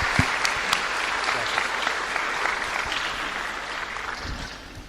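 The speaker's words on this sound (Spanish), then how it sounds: "un aplauso para el hermano" Sustained audience applause at a Pentecostal church gathering, steady dense clapping from a crowd with faint voices beneath.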